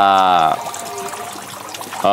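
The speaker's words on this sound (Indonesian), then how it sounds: "Di sini saya hanya menggunakan untuk keperluan gemericik air ya" Water trickles and splashes from an air lift pump system driven by a Resun 2800 air pump, making a steady, close gurgle. Someone talks over the start and end.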